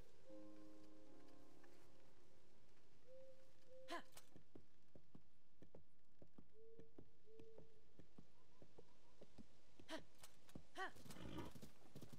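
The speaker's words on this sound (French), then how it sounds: "Donc, on va reprendre le cheval." Faint, sparse hoofbeats of a horse in the video game The Legend of Zelda: Tears of the Kingdom, with a soft whinny-like tone early on and a few sharper steps later, all quiet.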